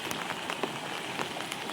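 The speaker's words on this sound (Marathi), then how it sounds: "खतरनाक असा पाऊस लागता" Heavy monsoon rain pours steadily in Konkan, a dense close hiss of drops drumming on surfaces without let-up, with no voices.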